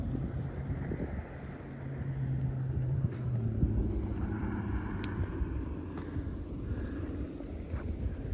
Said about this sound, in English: The wind feels good.